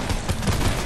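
Fortnite gunshots, several rapid rounds in a quick burst lasting under a second, moderately loud over a busy game background.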